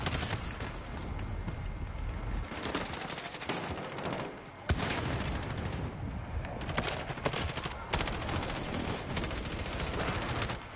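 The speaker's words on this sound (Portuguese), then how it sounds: "Toda vez alguém tá atirando em mim." Bursts of gunfire and automatic weapon fire crackle loudly and almost continuously in a Call of Duty Modern Warfare match, with brief lulls between volleys and one sharp louder shot near the middle.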